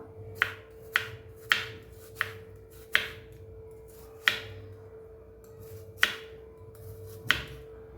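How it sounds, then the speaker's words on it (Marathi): An onion sliced thinly lengthwise with a knife, with about ten crisp chops onto a board at an uneven steady pace and a faint hum behind them. "कांदा छान आपल्याला असा पातळ चिरून घ्यायचा आहे बघा उभा"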